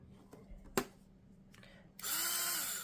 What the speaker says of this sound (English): let's do the Dremel. Do the Dremel.